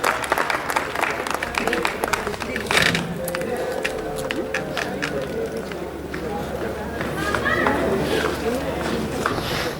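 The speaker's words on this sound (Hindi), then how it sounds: "तालियां देगा।" Audience applause welcoming a speaker at a national astrology conference held at City Palace, Udaipur, in 2024; clapping fills the room at moderate volume while a voice talks over it throughout.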